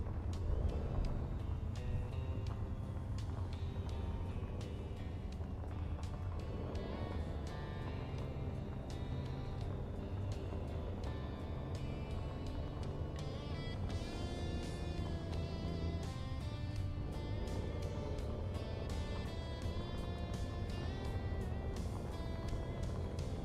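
A short frame day cab 389 truck with a 610 horsepower engine and 18 speed Eaton transmission in American Truck Simulator, its engine droning steadily and loud throughout as it drives along a bumpy farm dirt path.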